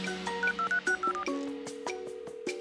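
Keypad tones from a toy bamboo phone: a quick run of short dialing beeps at a brisk, uneven rhythm, fairly clear and close, with no talking over them.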